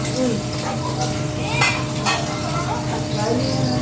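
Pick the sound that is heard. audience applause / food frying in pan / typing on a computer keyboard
food frying in pan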